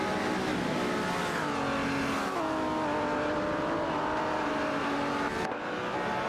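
Race cars dueling for position in a video game, engine whine rising and falling in pitch as cars accelerate and pass, a steady dense roar with a brief dip near the end.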